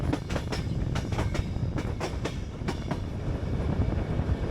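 RegioJet overnight sleeper train from Prague toward Ukraine pulling into Kosice station, with rhythmic clickety-clack of wheels over rail joints and a steady rumble, fairly close and alone.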